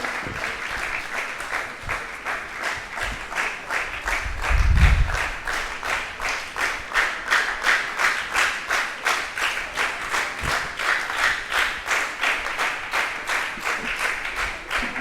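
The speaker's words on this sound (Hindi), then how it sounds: "सभी तालियों के माध्यम से उनका स्वागत करें" An audience at a Jain community women's group event applauds to welcome guests, steady rhythmic clapping in unison with a dull thump midway, loud and continuous throughout.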